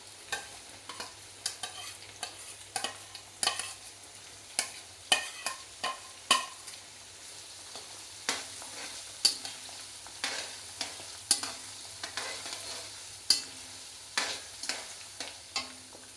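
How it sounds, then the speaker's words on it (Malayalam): Ground ginger and green chili paste stir-fries in hot oil for mango pickle, giving a soft, continuous sizzle broken by frequent sharp scraping stirs of a spoon against the pan, close up with no speech. "ഇഞ്ചിയും പച്ചമുളകും കൂടെ അരഞ്ഞത് ഇടാൻ പോവാണ്"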